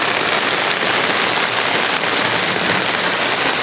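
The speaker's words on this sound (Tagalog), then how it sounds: "Lakas ng ulan" Heavy rain pours down in a steady, loud, close roar of dense drops beating on surfaces, unbroken from start to finish with no voices.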